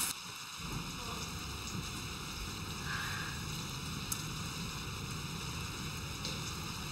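Steady rain falling outdoors, a soft continuous hiss with a low rumbling wash underneath, fairly faint and unbroken throughout, with no one speaking.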